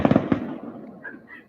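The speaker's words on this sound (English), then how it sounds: "Fireworks. You guys hear fireworks?" Fireworks bursting outdoors near a football game, a quick cluster of sharp pops followed by a lighter crackle as the display fades, heard at a moderate distance.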